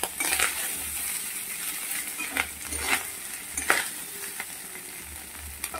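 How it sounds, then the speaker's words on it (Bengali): Vegetables for fried rice tossed and stirred in a sizzling pan, with a constant frying hiss and a few crisp scrapes and clinks of the spatula against metal, close up, with no voices. "হালকা নেড়ে নেবো, সবজিগুলোকে একটু উপরে তুলে দেবো।"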